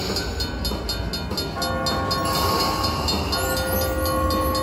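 A train sound effect plays in the Cash Express Luxury Line slot machine game: loud, continuous rail rumble with rhythmic clacking and a horn-like tone over it, all close and steady.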